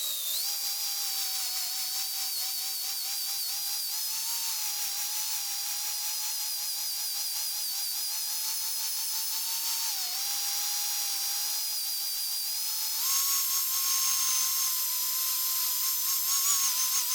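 A drill-driven stone hone works the cylinders of a 1999 Ford 4.2 engine, a steady, loud high-pitched whine that holds for the whole stretch, its pitch dipping briefly and then rising a little higher near the end.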